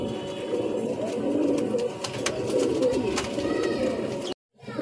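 Satin pigeons kept in a loft give repeated low, throaty cooing in a steady rolling rhythm, close and fairly loud, with faint background noise and a brief cut at the end.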